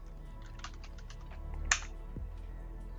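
Someone types a short word on a computer keyboard to rename a tilemap in the Unity editor, a quiet burst of quick key clicks followed by a single sharper tap, with no talking.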